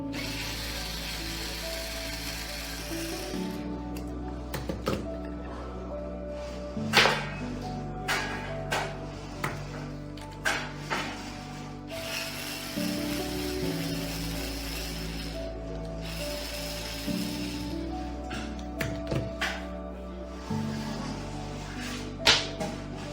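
The cup of a TOR-1 device being unscrewed by hand, giving repeated close mechanical clicks, ratcheting knocks and scraping turns in uneven bursts, with no talking.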